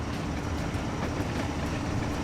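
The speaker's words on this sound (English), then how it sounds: "The rescue train made their way along the line." Rescue train running along a railway line, a steady close rumble of wheels and carriages with faint rhythmic clicks, no voices.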